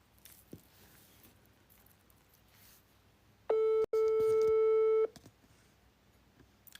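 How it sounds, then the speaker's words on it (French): A telephone line tone over a quiet room, heard as a steady electronic beep lasting about a second and a half with a short break near its start. "Ok, je vais essayer de rappeler le numéro."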